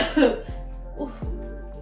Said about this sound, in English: I've been coughing like a severe smoker for the past week